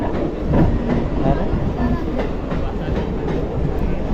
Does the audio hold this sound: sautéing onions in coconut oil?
no